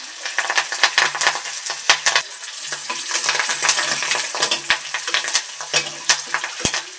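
Curry leaves go into hot oil with chopped green chilli and shallots for a Kerala-style ginger curry, giving a close sizzle and crackle with a spoon scraping and stirring against the pan.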